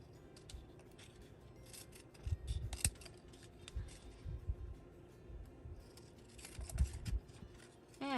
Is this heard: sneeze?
no